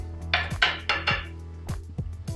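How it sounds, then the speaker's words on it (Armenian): Chopped onion is tipped from a board into a frying pan with a run of sharp metallic knocks and clinks, about six distinct taps in an uneven rhythm, close and clear with no talk. "սոխը կտրատեցի, լցնում եմ թավայի մեջ"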